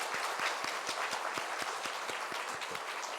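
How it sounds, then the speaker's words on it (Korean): A standing church congregation applauds warmly together during a Sunday service. Close, dense clapping fills the short clip with steady, overlapping hand claps. "우리 함께 큰 축복의 박수 했으면 좋겠습니다"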